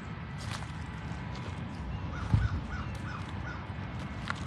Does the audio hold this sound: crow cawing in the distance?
yes